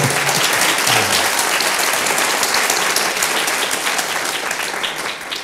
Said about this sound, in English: Why don't you give some applause now and welcome the speaker.